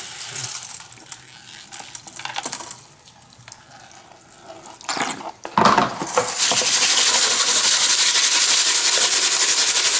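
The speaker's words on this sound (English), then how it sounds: "I'm just going to put everything that's plus kitchen strainer in a smaller gold pan." Gravel and gemstones from a kitchen strainer are poured into a smaller gold pan, with scattered clinks and rattles building to a loud, steady hissing pour of material that continues to the end.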